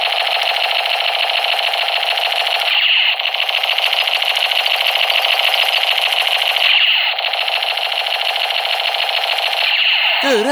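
A toy machine gun plays its electronic firing effect: a loud, buzzing, steady rattling tone that runs in long bursts with brief breaks between them, close and alone.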